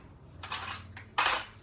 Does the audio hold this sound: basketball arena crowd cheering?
no